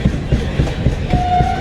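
Inside a general coach of the Tirumala Express running from Visakhapatnam to Tirupati, loud rhythmic wheel clatter thumps steadily, with a thin sustained tone sounding near the end.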